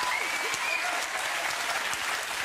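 A television talk show studio audience applauds in a steady, dense roar of clapping that holds at even loudness throughout the short stretch.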